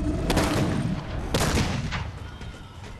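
Halo matchmaking firefight: loud, continuous automatic weapon fire with several sharp bursts standing out, against steady battle noise and no voices.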